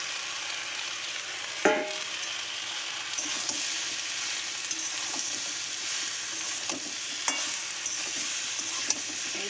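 Fish head frying in a pan with onion, salt and turmeric, a steady soft sizzle running throughout with a sharper clatter of stirring near the start and a few light utensil taps later.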